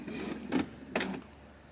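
An Epson EcoTank ET-2810 multifunction printer running its ink initialization, a steady mechanical whir with two short louder clunking surges of the print head, close by and without talk.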